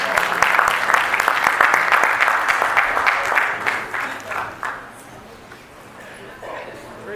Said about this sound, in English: let's give God a hand clap